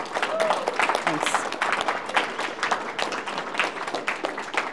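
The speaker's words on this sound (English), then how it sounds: "Let's give her a round of applause, please." An audience at an impaired-driving presentation gives a round of applause after a speaker, fairly loud and steady, with some voices mixed into the clapping.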